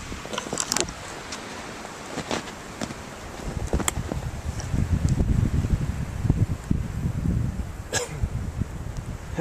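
Wind blowing during a steel blizzard near Rhyolite, gusty rushing and buffeting that swells louder in the second half, with scattered thumps and no clear talk.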